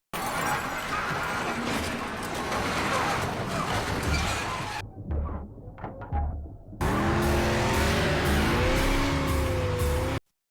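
Ford Mustang car chase from the film John Wick Chapter 2: loud engine roar and crashing, a brief quieter stretch with impacts, then screeching tires and revving engine resume before an abrupt cut.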